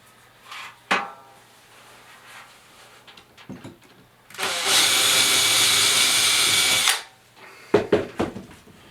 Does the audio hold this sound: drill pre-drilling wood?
yes